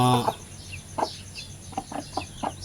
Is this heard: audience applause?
no